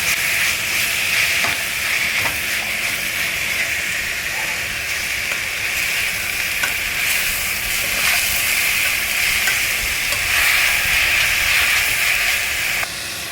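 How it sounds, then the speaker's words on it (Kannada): Raw mango pieces deep frying in hot oil while cooking mango rice give a loud, steady sizzle with continuous bubbling hiss and occasional stirring, close and without talk. "ಡೀಪಾಗೆ ಫ್ರೈ ಮಾಡ್ಕೊಳ್ಳೋಣ. ಇದೆಲ್ಲನ ಸ್ವಲ್ಪ ಸಾಫ್ಟ್ ಬರಬೇಕು ಮ್ಯಾಂಗೋ."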